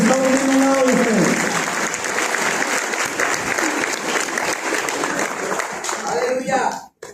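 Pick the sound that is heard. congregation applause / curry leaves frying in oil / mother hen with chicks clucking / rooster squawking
congregation applause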